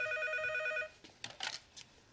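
An electronic telephone ring, a steady multi-tone trill lasting under a second, cuts off and gives way to faint rustling and brief soft noises, with nobody speaking.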